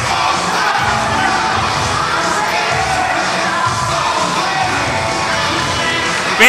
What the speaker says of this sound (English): Fans standing and applauding Curry and Del Monte.